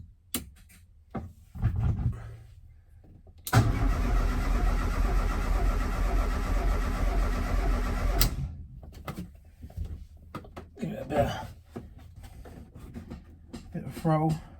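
A Ford Escort RS Turbo engine cranks on the starter in a long, loud continuous churn that fails to catch. Clunks and handling noises come before and after, and a voice talks in the quieter stretches.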